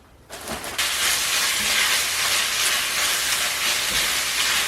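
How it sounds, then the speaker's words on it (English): Half a pound of spinach hits a hot pan and settles into a steady, loud hiss and sizzle that starts abruptly and continues evenly throughout, with no talking. "So I'm going to cook 2 pounds of spinach"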